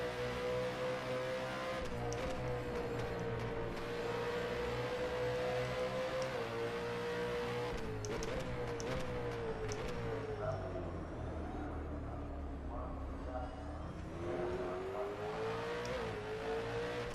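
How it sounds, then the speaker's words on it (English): A V8 Supercar engine racing in the rFactor 2 sim, its note climbing and dropping through gear changes as the car accelerates and brakes, steady and fairly loud throughout with no talk. "So each car has its own unique engine sound."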